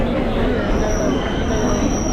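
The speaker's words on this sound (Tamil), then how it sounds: "ட்ரெயின் வந்துருச்சு." A crowded passenger train pulls into a station on a Vijayawada to Tenkasi journey, with loud continuous rumbling and squealing wheels close by, plus crowd noise.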